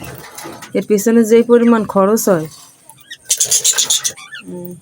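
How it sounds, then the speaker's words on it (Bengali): Pet pigeons or doves in a home coo in rising, wavering calls, close and fairly loud, alternating with someone talking over and between them. "এই দেখেন আমার পাখিগুলো কিভাবে ডাকতেছে"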